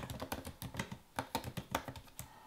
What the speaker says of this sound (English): I don't mind the slightly louder click noise coming from the keyboard.